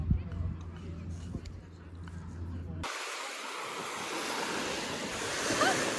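Ocean surf washes onto a sandy North German beach, a steady broad rush with wind buffeting the microphone; after a quiet opening the waves swell to a fuller, continuous roar.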